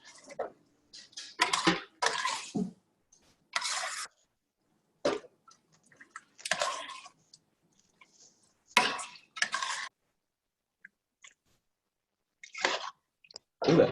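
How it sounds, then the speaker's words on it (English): Barbecue mac and cheese stirred in a pot: a series of short scraping, clattering bursts of spoon against metal, spaced unevenly with quiet gaps between, close and fairly clear. "And now I'm going to stir."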